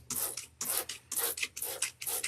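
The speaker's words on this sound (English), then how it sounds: "spraying it with just the glue is easier" Glue sprays in quick hissing bursts, about five close, loud pulses in steady rhythm with short gaps between them.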